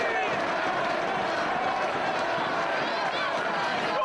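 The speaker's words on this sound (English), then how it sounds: "The crowd continues to urge the challenger back to his feet" A professional wrestling crowd at ROH's 6th Anniversary show, during the Nigel McGuinness vs Bryan Danielson world title match, fills the arena with a steady, dense roar of urging voices that holds at an even level throughout.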